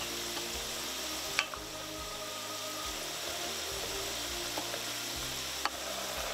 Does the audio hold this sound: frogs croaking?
no